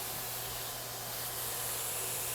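Sausage cooking in a pan on a kitchen stove, a steady close sizzle and hiss running evenly throughout, with no talking.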